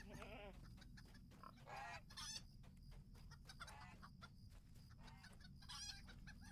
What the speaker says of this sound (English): Lots of geese here.